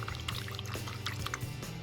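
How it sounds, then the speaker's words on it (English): A paintbrush rinsed in a water cup at a paint night, with steady sloshing and trickling water, close and moderately loud, and no talk. "Now I'm going to go ahead and rinse out my brush."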